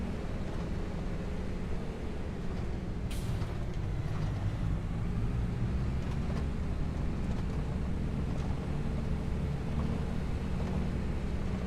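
A farm tractor's engine runs steadily up close, a continuous low rumble with a droning hum that holds level throughout, with occasional faint clicks and rattles over the top.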